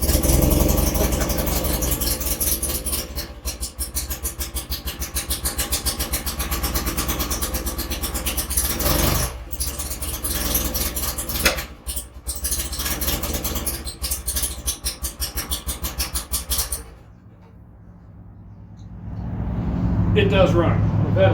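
BMW R80/7 motorcycle engine starting up with choke engaged, settling into a loud, close, steady idle with a throbbing pulse, briefly dropping out near the end before picking up again.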